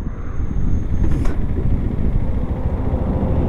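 A 2020 KTM 390 Adventure motorcycle being ridden, its engine droning under a constant roar of wind and road noise, with a brief whoosh passing about a second in.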